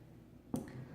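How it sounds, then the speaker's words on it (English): Liquid poured over ice in a glass while making a peach matcha lemonade, a single soft splash and crackle of ice near the middle, close and fairly quiet, with no talking. "I'll just pour this right over, trying to melt this ice as I go"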